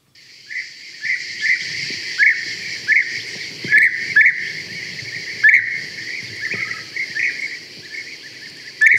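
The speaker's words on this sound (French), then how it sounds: "Les guépiers." European bee-eaters at dawn in the Luberon hills, repeated rolling liquid calls in short bursts over several seconds, fairly clear against a quiet morning background.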